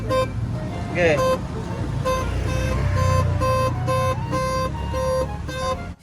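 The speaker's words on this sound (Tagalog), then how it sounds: "Yes, busina yang naririnig nyo na yan." A weak car horn honks in repeated short toots with brief pauses, over engine rumble, and a voice speaks briefly at the start.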